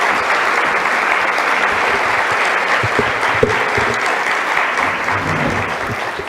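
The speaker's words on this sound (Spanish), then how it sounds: "otro aplauso para el doctor Méndez Sangüesa" Sustained audience applause for a speaker at a constitutional law congress, a dense, steady wash of many hands clapping throughout at even loudness, with a faint voice underneath at moments.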